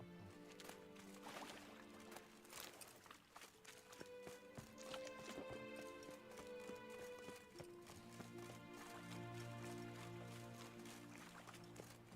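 Hooves of Roach, a horse in the video game The Witcher 3, clip-clopping in a steady trotting rhythm over faint game music and ambience, quiet and fairly distant.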